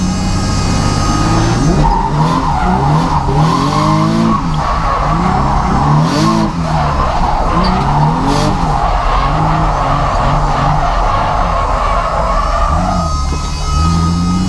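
A twin-turbo Nissan 350Z drifting, its engine roaring loud and close with rising and falling revs over sustained tire squeal and skidding throughout.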